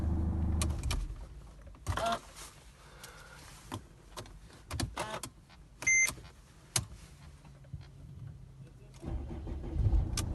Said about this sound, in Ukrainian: Машина заводиться одним ключом.